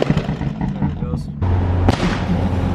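A BMW F80 M3 running on E85 fuel lets out sharp exhaust backfire bangs, one at the start and another loud crack near the end, over a low engine rumble, with voices in the background.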